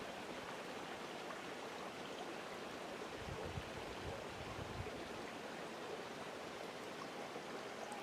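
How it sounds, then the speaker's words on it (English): Water running in a stream, a steady broadband rush and trickle heard alone at low volume and continuing without a break. "Hear the water running."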